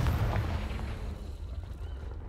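A Confringo blasting spell bursting in Hogwarts Legacy, a loud rumbling explosion at the start that decays into a crackling, fading tail.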